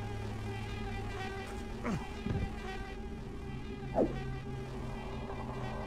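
Flies buzzing around a corpse in a flooded mine in Thief: The Dark Project, a close, continuous insect whine with rising and falling passes as they circle, heard alone.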